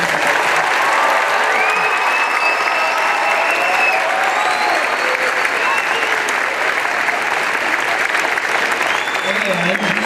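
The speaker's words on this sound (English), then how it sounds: "So everybody give a round of applause for them." A large crowd at a youth tech challenge awards event claps steadily for the volunteers, sustained dense applause with scattered voices and whoops mixed in.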